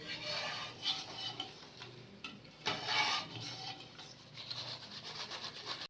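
Dry, crisp rustling and scraping of fried namak pare being tossed in a metal strainer, close up and soft, in irregular bursts.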